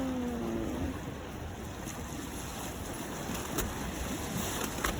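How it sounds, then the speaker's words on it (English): Gentle waves wash against the shore at Ward's Island, a soft, steady watery wash at low level with no voices. "listen to the sounds of the waves"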